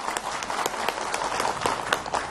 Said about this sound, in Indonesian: Tepuk tangan buat Ustaz Azhari.